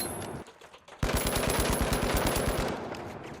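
SCAR rifle in the shooter game The Finals firing a sustained, rapid automatic burst of about two dozen close, loud shots after a brief quieter lead-in, with no talking.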